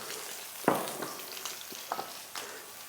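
Grated garlic drops into lamb frying in a pan, raising a sudden hiss that settles into a steady soft sizzle with a few small crackles and stirring taps, fairly quiet and close.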